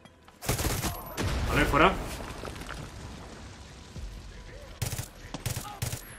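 Submachine gun fire in Far Cry 6: loud bursts of rapid automatic shots, one long rattling volley early and shorter bursts near the end, with a brief spoken voice between.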